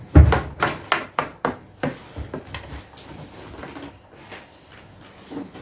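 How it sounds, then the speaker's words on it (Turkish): A door being opened in a house, heard as a series of sharp wooden knocks and bangs, with a loud thump at the start followed by several spaced clunks that grow fainter. "Kapı açılır mısın lütfen ya?"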